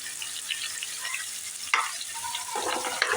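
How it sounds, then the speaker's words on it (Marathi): Onion frying in oil with cloves in a pan gives a continuous bright sizzle with an occasional sharper spatter and a stir, close up and unaccompanied by talk. "आता हे संपूर्ण आपण लाल करून घेऊ बघा कांदा आता लाल झालेला आहे आपला"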